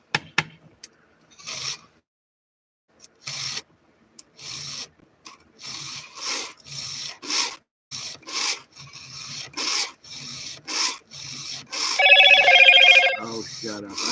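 A phone notification or ringtone chimes in a rapid burst of bright tones near the end, following scattered rubbing and handling noises; speech occurs intermittently.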